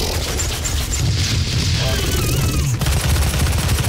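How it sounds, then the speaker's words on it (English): Rapid automatic gunfire from a machine gun in the DOOM video game, a dense sustained burst of loud shots with booming impacts, heard close and without pauses. "We'll go with the machine gun here."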